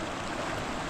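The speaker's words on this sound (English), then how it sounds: "Maybe when water is making noise, sorry for that." A flowing stream rushes steadily and close by, a dense, continuous wash of running water with no pauses.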